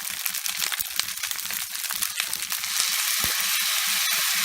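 Stir-fry being tossed and mixed in a hot pan after light soy sauce goes in, a steady close sizzle with scraping and clatter throughout.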